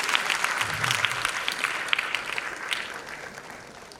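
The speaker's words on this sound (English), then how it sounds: "A big round of applause, please." Audience applause at a school annual day function, a steady wash of many hands clapping with sharp individual claps standing out, fairly distant and gradually thinning toward the end.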